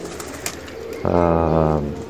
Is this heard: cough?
no